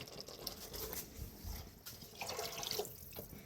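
Water poured into a cooking pot of sautéed masala and mutton trotters for rasam, a faint continuous splashing and trickling pour with small drips, no talk over it.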